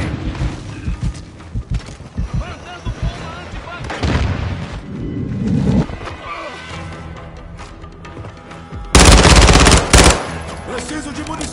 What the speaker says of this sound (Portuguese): Estão atirando em mim!